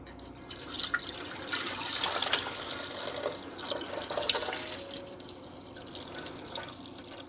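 Milk poured into a bread machine pan with a paddle inside, a close continuous liquid splashing and trickling that gradually thins out.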